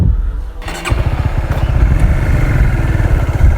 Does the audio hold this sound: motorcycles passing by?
yes